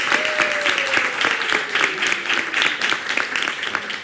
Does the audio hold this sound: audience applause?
yes